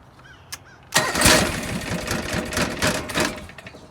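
Small engine of a John Deere 445 lawn tractor starting up and running with a rough, rapid chugging, loud and close after a brief quiet lead-in.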